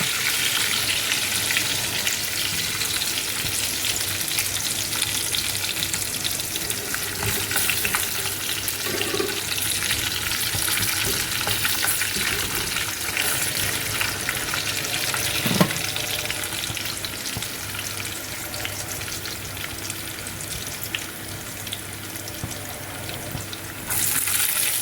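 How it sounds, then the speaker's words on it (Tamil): Garlic frying and roasting in a pan for a dried fish fry, a steady close sizzle running throughout with faint stirring scrapes, no talk. "இந்த வெள்ளைப்பூடு நல்லா ரோஸ்ட் ஆகணும்."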